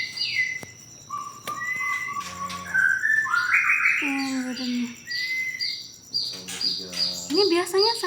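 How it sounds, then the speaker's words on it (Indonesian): Oriental magpie-robins (murai batu), a breeding pair in a cage, sing close and loud: varied whistled phrases, rising sweeps and rapid chattering trills in bursts, with short pauses between. "Kalau murai batu satu kandang ini satu pasang."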